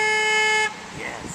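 A Jeep's horn gives one steady, loud honk lasting just over half a second, then cuts off and leaves the background quiet.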